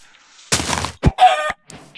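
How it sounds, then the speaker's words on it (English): Chickens being hit and killed in a video game, a short burst of clucking squawks followed by a dull thunk and another brief squawk, all close and without speech. "Sheep, or not sheep. Chicken is dead."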